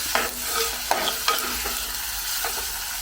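Wilted veld grape stems being stirred in a sizzling frying pan, with a steady frying hiss and a few scraping clinks of the spoon against the pan, close and without talk.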